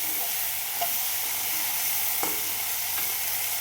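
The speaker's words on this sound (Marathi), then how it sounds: "थोडीशी कच्ची वाटती आहे ती त्याला अजून फ्राय होऊ द्यायचं आणि परत थोडंसं झाकण ठेवायचं" Okra curry (bhindi bhaji) frying in a pan, giving a steady, soft sizzle with a few faint stirring clicks, close by and alone without any voices.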